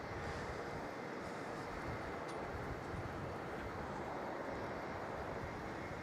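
An Australia Post freighter aircraft from Perth arriving at Melbourne Airport, heard as a steady, dense roar blended with wind noise, constant in level throughout.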